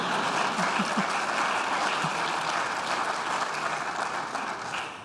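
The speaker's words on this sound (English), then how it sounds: "that's a good applause line" Sustained audience applause at a county executive's State of the County speech, a dense steady wash of many hands clapping that holds at even loudness throughout and fades slightly at the end.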